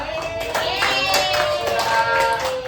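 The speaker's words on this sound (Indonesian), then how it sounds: "Kita tepuk tangan saudara" A class clapping hands together in a classroom lesson, a quick burst of rhythmic claps repeated through the moment, mixed with a tonal ringing hum in the background.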